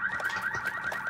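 Car alarm in the video game Watch Dogs Legion, a steady electronic tone pulsing rapidly and evenly, loud and close, alone with no talking.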